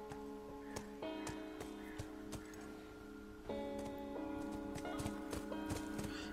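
Rhythmic hoof clip-clops of a horse at a steady pace in the PS4 game The Last of Us, layered with game music tones and a soft background ambience.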